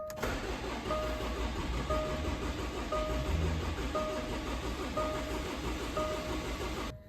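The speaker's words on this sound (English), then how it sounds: "Time to give it a couple of cranks and get oil up and down." A Jaguar XF 2-litre diesel engine turns over on the starter for several seconds without firing, a steady close mechanical whirr with an evenly repeating rhythm that stops abruptly at the end.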